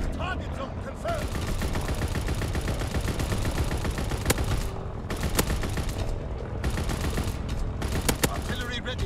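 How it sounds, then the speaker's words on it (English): Aircraft gunner support fire in a video game, a continuous loud barrage of rapid automatic gunfire and explosions with a few sharp louder cracks, under occasional voice. "Aircraft gunner inbound. Target zone confirmed."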